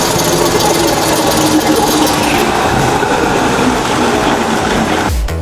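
A worn front wheel bearing on an Audi Q5L hums loudly while the car coasts in neutral at speed, a continuous droning roar mixed with road noise that cuts off abruptly near the end.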